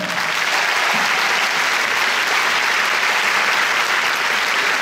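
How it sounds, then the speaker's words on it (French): Continuous, dense applause from a large audience at a film premiere in the Grand Rex cinema in Paris, a steady, loud wall of clapping without pause. "Malgré les applaudissements continus jusqu'à mon arrivée"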